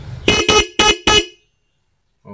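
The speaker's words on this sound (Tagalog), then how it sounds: "Okay, so stock horn tayo." Four short stock car horn honks in a quick even rhythm, loud and close, followed by silence and a faint click at the end.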